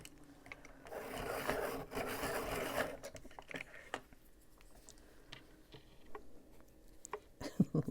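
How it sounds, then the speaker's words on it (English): A Luminance colored pencil being sharpened, giving a steady close scraping, rasping rub for about two seconds, followed by quieter scattered wood taps and scrapes. "we're going to sharpen that."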